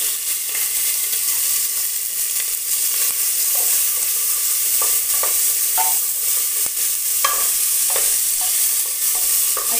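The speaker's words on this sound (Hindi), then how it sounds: "अब हम इसमें प्याज भी डाल देंगे।" Onions sizzle steadily in hot oil in a pressure cooker for pav bhaji, with repeated scraping stirs of a spoon against the pot, loud and continuous with no talking.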